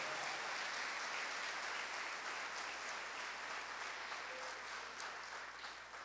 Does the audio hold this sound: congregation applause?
yes